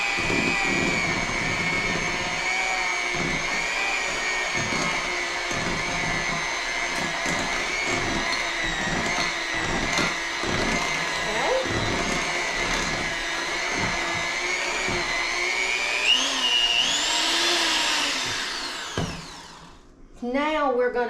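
An electric mixer whirs steadily through cake batter for an Elvis cake, a constant loud motor drone with small shifts in pitch, then it slows and stops near the end.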